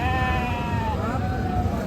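A goat bleats in a long wavering cry over loud background noise at a busy goat market in Sakur, fairly close.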